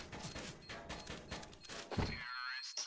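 Rapid gunfire in CS:GO during a shot through smoke: a dense series of close, punchy shots in quick succession, ending abruptly with a brief ringing tail.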